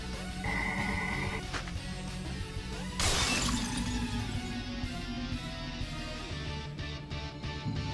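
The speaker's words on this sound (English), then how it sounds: "Come on, shatter it to pieces, Hundred Knight." A magic seal breaks apart in The Witch and the Hundred Knight, a bright crashing shatter over continuous game music and chiming tones, followed by lingering tinkling debris.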